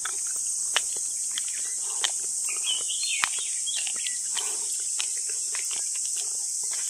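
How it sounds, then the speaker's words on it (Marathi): Crickets chirp continuously in a dense, high-pitched drone in a village, with scattered faint bird calls and light rustling nearby, no voices. "रातकिड्यांचा आवाज बघा किती."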